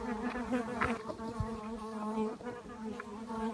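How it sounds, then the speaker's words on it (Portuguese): A wasp buzzing close by, a steady droning hum with shifting pitch that rises and falls as it moves, alone and fairly quiet. "Uma outra vespa compartilha o mesmo espaço."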